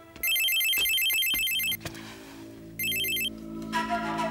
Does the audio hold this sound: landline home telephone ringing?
yes